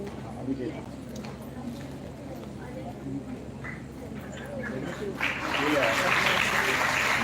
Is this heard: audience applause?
yes